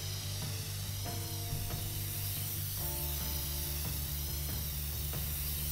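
Aerosol spray-paint hissing from the video game inFAMOUS Second Son, several short bursts and one longer steady spray over game music and mechanical ticking, no talk.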